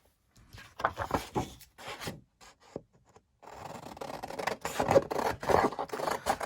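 Big scissors cut through paper for a junk journal, giving close, dry snipping and rustling in uneven bursts, first sparse with pauses and then denser and louder toward the end, with no talk.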